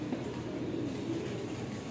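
Racing pigeons coo softly in a loft, a low continuous burbling with no one talking over it.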